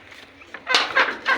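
Chickens feeding in a backyard give a few quick, close clucks over faint background noise.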